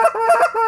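A badly tuned short reed goose call being blown, giving a few quick, loud, close honks that sound fuzzy and rattly, with no talking.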